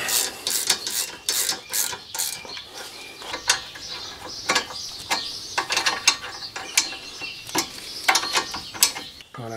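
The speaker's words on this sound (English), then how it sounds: "you might just have to hold the caliper pin as you whiz it up." Ratchet tool or gun spinning up a rear brake caliper pin on a Ford Mondeo: close, busy mechanical whirring and rapid ratcheting clicks in short bursts with brief pauses, loud and irregular.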